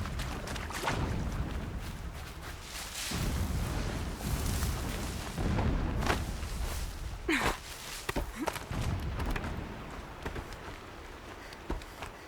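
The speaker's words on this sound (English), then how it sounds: "Explosions in the distance." Dense rumbling and crackling noise with repeated dull booms, like explosions going off at a distance amid a steady rain-like hiss, in the video game Horizon Zero Dawn.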